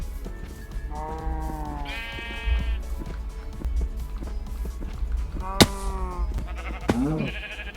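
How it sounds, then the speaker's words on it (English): Several bleats from sheep in the video game Minecraft, short wavering calls spaced a second or two apart over soft footstep-like clicks and a low background rumble. "Sheep."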